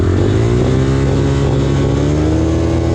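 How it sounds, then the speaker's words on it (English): An SSR 150 pit bike runs hard around a dirt pit bike course at a motorsport park, its loud, close engine buzzing continuously with pitch rising and falling as it revs through the lap. "Now let's take one lap around the pit bike course."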